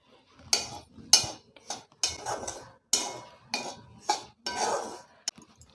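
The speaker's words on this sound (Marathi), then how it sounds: "हा रवा आपण भाजून घेऊया" Semolina roasting in a pan while a spoon stirs it, giving a string of about eight scraping, clinking strokes against the metal. Each stroke is close and distinct, with short quiet gaps between them.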